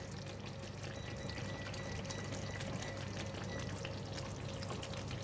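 A pot of Malaysian chicken curry with potatoes and coconut milk boils hard, a steady dense bubbling and spattering that stays loud and even throughout with no voices.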